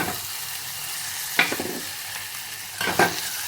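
Chopped tomato and onion sautéing in a pan for horse gram rasam, a low steady sizzle with two brief louder bursts of stirring or scraping partway through, no voices.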